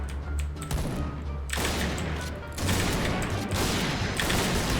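Sniper rifle fire in the shooter game Point Blank, with a burst of rapid gunfire followed by heavy booming shots and a dense, noisy rumble, loud and close throughout.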